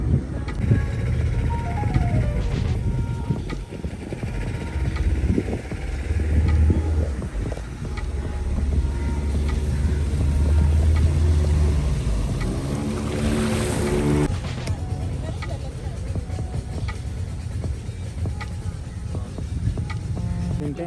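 A motor boat drones steadily while travelling through calm mangrove forest water near Pondicherry, its low engine rumble continuous and close, with water wash and wind around it and a brief rise in hiss partway through.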